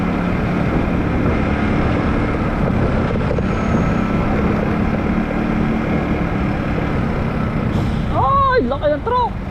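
A large truck rumbles loudly past at close range for several seconds, and a sharp hissing air-brake release comes near the end. A steady engine roar runs throughout.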